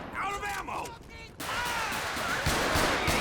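Sharp bursts of GTA 5 gunfire crackle, then a dense noisy stretch of shooting continues, with no clear speech.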